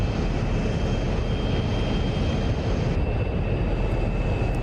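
Simulated F-106 Delta Dart jet engine with afterburners lit in a DCS flight sim, a loud steady broadband roar holding unbroken throughout with no talk.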